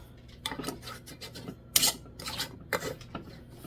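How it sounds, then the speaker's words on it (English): A lid is put on a container holding coconut oil and lantana flowers, heard as several short, close scraping and rasping bursts of twisting and rubbing, with brief pauses between them and no talk. "Just going to put a lid on it."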